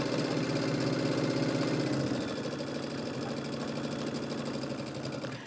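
A sewing machine stitching a star pillow runs steadily at a raised speed, a continuous fast mechanical whir and rattle, loud at first and settling slightly, alone without talk.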